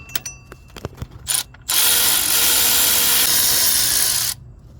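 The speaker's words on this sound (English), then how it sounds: "I'm gonna get a electric ratchet because it's taking forever" Electric ratchet spinning out power steering pump bolts on an Infiniti G37, a few light clicks and taps, then a loud, steady mechanical whirr lasting a few seconds before cutting off abruptly, close up with no talk.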